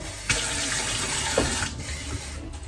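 Water from a tap rushing steadily into a small cup, loud and close, with a brief shift in tone as the flow changes and no voices.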